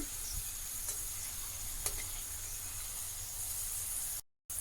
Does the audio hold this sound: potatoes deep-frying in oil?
yes